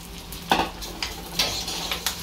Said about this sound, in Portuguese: o arroz, que eu vou dar uma refogada